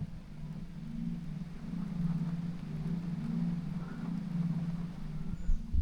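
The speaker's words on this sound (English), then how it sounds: "it's a EV humming." A Tata Curvv EV's external pedestrian warning hum plays from a speaker under the hood, a steady low drone that holds evenly throughout with faint background noise.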